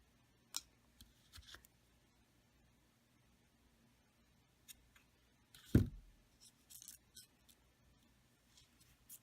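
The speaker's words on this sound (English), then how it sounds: "I'm going to cut some embroidery floss off" Scissors snip embroidery floss in a quiet room, with a few faint clicks and one clearer close cut in the middle, then small handling taps.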